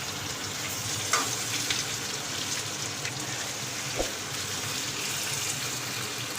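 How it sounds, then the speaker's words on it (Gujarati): Boiled potatoes being gently stirred in a pan with water for Gujarati bhungla batata: a constant close frying-like hiss and bubbling with occasional soft clicks of a spoon, no talking. "હાવ પોચા હાથે સેજ જ હલાવી લઈ, કારણ કે બાફેલા બટેટા હોય ને"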